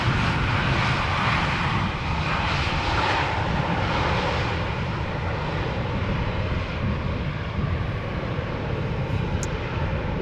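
A Tarom Boeing 737-800 airliner arriving at Amsterdam Schiphol produces a continuous loud jet engine roar that holds steady throughout, with no voices.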